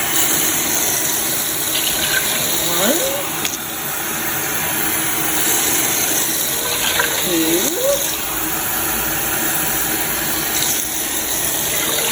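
Water gushes steadily from a tap into a container for hummingbird nectar, a continuous rushing fill sound lasting several seconds with a faint voice briefly audible underneath.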